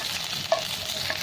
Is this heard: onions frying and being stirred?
yes